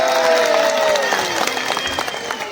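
An audience at a live performance by a double-voice singer claps in brief, scattered bursts while a high singing or instrumental tone slides downward over the clapping.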